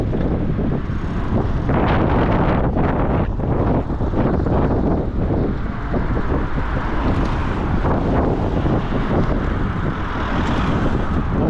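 Loud, gusty wind buffets the microphone in uneven rumbling blasts throughout, with a faint hint of passing traffic beneath.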